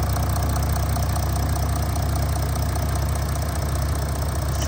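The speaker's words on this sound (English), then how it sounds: "that ticking noise is the high pressure injectors that force the diesel into the cylinder and atomize it" An Audi S4 saloon's 3.0 V6 TDI turbo diesel with automatic S tronic gearbox idles steadily up close, a low, even rumble overlaid with fast, fine ticking from the high-pressure injectors, with no talk.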